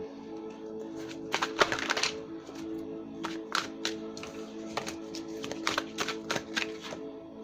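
Tarot cards are shuffled and laid out one by one in a three-card love reading, giving a run of soft riffles followed by distinct close taps and flicks as each card lands, with no talking over them.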